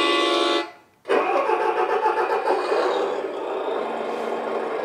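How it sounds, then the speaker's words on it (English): Sound module on a Double E 1/14 scale Volvo 6x6 hydraulic RC dumper truck playing a diesel engine start, a brief cutout followed by steady, fairly loud idling rumble, close up with no talk. "So with light system, sound system, turning have the flicking sound at low speed"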